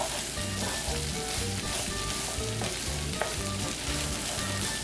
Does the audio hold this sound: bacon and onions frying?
yes